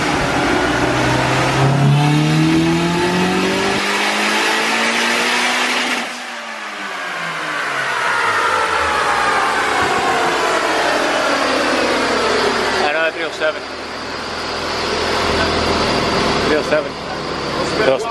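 A turbocharged 9th-gen Honda Civic Si revs hard on a dyno, the engine climbing through long loud pulls with rising pitch, easing off, then pulling again, while people talk nearby.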